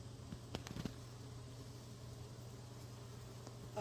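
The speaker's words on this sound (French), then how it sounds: "Checkez les amis, toutes les abeilles dans mon arbre." Bees buzzing among the blossoms of a flowering tree, a soft continuous hum with a few brief close passes near the start, faint under steady outdoor background noise.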